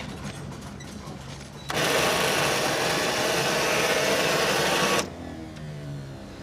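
An old tractor engine struggles to start, cranking into a loud, dense broadband roar that holds steady for about three seconds before cutting off abruptly, with quieter background noise before and after.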